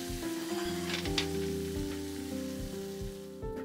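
Spring onion browns in a pan with a soft continuous sizzle under a steady tonal hum with regular low thumps, faint and close.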